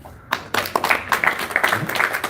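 An audience at a spiritual satsang gathering breaking into applause, with scattered claps building quickly into a fuller, uneven patter of many hands clapping together.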